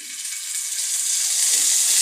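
Whole cinnamon and cardamom spices fry in hot oil with a soft, steady hiss and sizzle that slowly grows a little louder, heard alone without talk.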